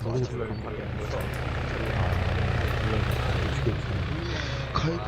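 Helicopter rotor and engine drone in the military video game Arma 3, a steady loud thrum filling the whole clip, with voices talking over it.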